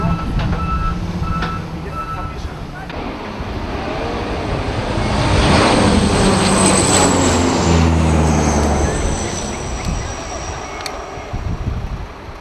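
Firefighting planes flying over a wildfire in Greece: the aircraft engine drone swells to a loud pass midway and then fades, with steady electronic beeping and vehicle noise throughout.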